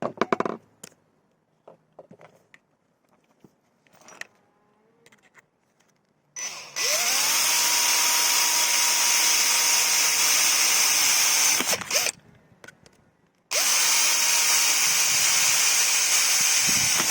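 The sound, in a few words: power drill drilling holes with a 9 mm metal bit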